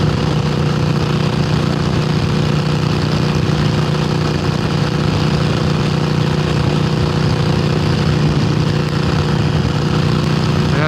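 A Harley-Davidson Iron 883 motorcycle engine runs steadily in fifth gear at about 70 mph on a Florida highway, a loud, constant droning rumble mixed with wind noise throughout.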